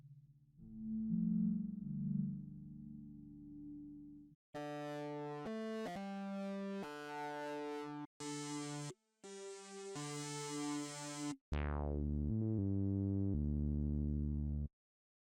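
Free Omforce Symptohm Melohman PE synth plugin presets play in turn: a low, warm buzzy patch, then bright sustained tones in short bursts, ending with a deep bassy preset falling in steps, with no talk.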